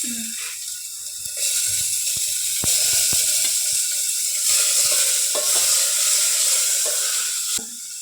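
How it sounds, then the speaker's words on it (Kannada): Tomato sizzles as it is added to a spice tempering for a lady finger (okra) rasam, a steady loud frying hiss with a few stirring clicks and brief clatters, rising after a few seconds and easing near the end. "ಟೊಮೆಟೊ ಹಾಕ್ತೀಯ ಒಗ್ಗರಣೆಗೆ ಹಾಕ್ತೀವಿ"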